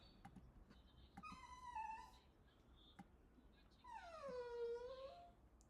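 A pet dog whining indoors, two drawn-out, high, falling whimpers separated by a short gap, fairly faint over a low background hum with light clicks.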